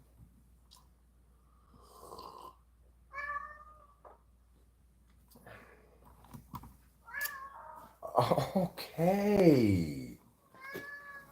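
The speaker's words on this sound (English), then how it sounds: "Do you hear this cat?" A housecat meows repeatedly indoors, several short cries spread across the stretch, the last few louder and more drawn out, with a brief spoken word and soft breathing noises between.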